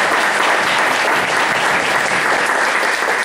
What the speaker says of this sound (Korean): 또 환영하는 박수 한번 하겠습니다.